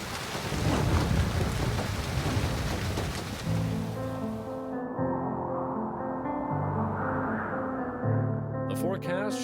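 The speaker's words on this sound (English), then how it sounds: "The forecast, showers and thunderstorms today with strong southwesterly winds to 37 miles per hour." Steady rain with rumbling thunder during a storm over a lake, a dense wash of noise filling the first seconds before it thins under a speaking voice for the rest.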